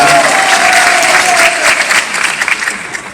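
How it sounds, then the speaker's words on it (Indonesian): Audience at a comedy show in Banda Aceh applauds a teacher, loud close dense clapping with crowd noise, a brief tone underneath early on, then thinning toward the end. "tidak lupa tepuk tangan buat guru kita tadi, Pak Toha"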